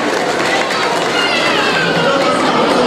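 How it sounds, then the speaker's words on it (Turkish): Wedding guests in a hall applaud together, making a dense, steady patter of many clapping hands that stays loud and even throughout, with crowd noise mixed in. "Şöyle hep birlikte alkışlayalım."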